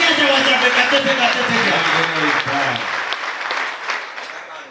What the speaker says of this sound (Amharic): አጨብጭቡ ለጌታ ክብር ይሁን